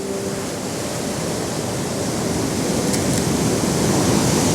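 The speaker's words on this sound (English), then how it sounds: "the sensor will obviously pick up the lighter parts of the waves as they cascade over the rocks just there" Broadband roar of sea waves cascading over coastal rocks, steady and close, growing slightly louder toward the end with a continuous wash of surf and spray.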